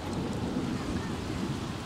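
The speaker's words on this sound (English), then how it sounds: "And it's currently pouring rain." Heavy rain pours down with a low rumble of thunder in The Sims 3, a steady hissing downpour over a deep continuous growl, with no talking.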